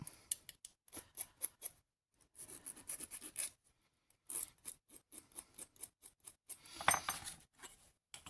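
Short bursts of metal filing as the cut ends of wire for boho hoop earrings are smoothed, quiet close scraping strokes separated by brief pauses, with a louder rasping patch near the end.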